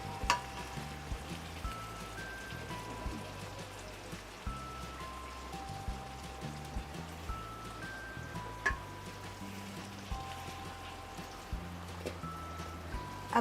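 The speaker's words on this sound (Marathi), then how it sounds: "हे लसूण आलं हे ते सगळं ह्याच्यात आपण असं टाकून घेऊया तेल" Garlic and ginger sizzle steadily in a couple of spoonfuls of hot oil, a soft continuous crackle with faint tonal beeps and occasional light clinks, and no voices.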